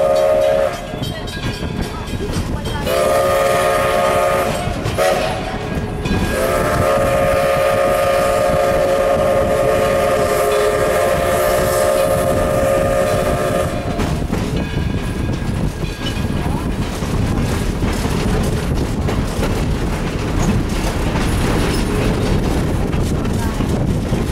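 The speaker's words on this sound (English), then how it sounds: "the train has made a trip around the village" Heritage train at Greenfield Village rolling along its loop, steady loud rumble and clatter of cars with a sustained whistle blast in the first half, wind buffeting the microphone throughout.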